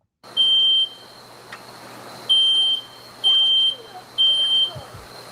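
A smoke alarm sounds four loud, piercing beeps in a slow repeating pattern over a quiet room.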